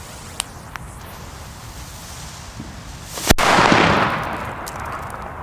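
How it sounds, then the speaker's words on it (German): A China Böller A firecracker goes off outdoors on New Year's Eve with a single sharp, loud bang after a quiet stretch, its rushing echo fading over about a second. "China Böller A"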